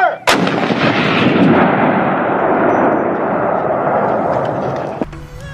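A single thunderous blast from an artillery cannon fired at a heritage museum, followed by a long rumbling echo that fades over several seconds outdoors.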